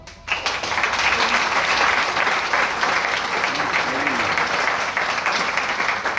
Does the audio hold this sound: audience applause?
yes